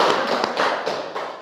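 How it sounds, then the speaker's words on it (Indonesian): Brief scattered handclapping from a classroom of students applauding a classmate, a short patter of claps at moderate distance. "tepuk tangan untuk Dede Pauji"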